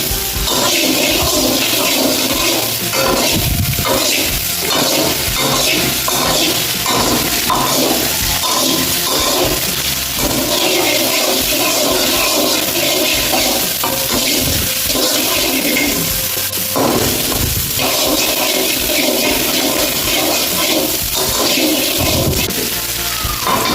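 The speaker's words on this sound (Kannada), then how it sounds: "ಇದನ್ನೀಗ ಚೆನ್ನಾಗಿ ಫ್ರೈ ಮಾಡುವ." Soya chunks frying with red chilli in a hot pan give a loud, steady, crackling sizzle that runs unbroken from start to finish, with no voices.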